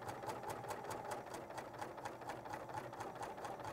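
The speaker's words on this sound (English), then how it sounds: "So now as I stitch, that ruffle that I just made, we want those ruffled pieces to lay flat." A serger sewing machine stitches a ruffled fabric piece in a steady, fast mechanical whir with a rapid regular needle rhythm, running continuously and close up with no talk.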